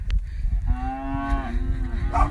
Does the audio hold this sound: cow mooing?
yes